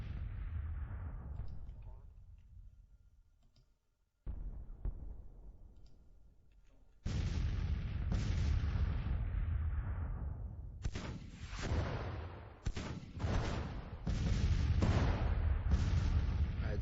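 Artillery fire pounding enemy guns in wooded terrain during a Grand Tactician Civil War battle, with a fading boom followed by repeated sharp cannon blasts and rolling bursts, loud and close, with no voices.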